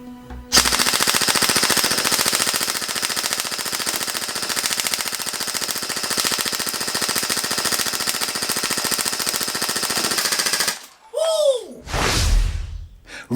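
LCT AK-12 airsoft rifle firing a long full-auto burst, a rapid steady mechanical rattle lasting about ten seconds, close and loud, followed by a brief pause and a swish.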